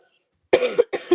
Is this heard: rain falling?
no